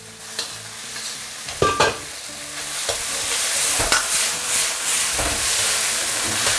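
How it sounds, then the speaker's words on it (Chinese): Shredded pork tossed with pickled chili in a wok over high heat, giving a steady loud sizzle and hiss, broken by scraping, clanking stirs of the spatula. "最大的火去翻炒它"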